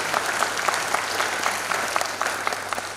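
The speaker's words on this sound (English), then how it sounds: "So you can give yourself a big applause because you are winners." A crowd of students and families applauds at a Grade 8 promotion ceremony, a continuous wash of clapping from a large audience with faint rhythmic accents, even in loudness throughout.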